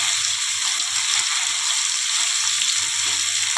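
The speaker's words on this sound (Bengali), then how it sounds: "মাছগুলো উল্টে পাল্টে দিলাম, একটু ভাজা হয়ে গেছে" Tilapia fish frying in hot oil in a pan, a loud dense continuous sizzle and crackle close up, with no talk.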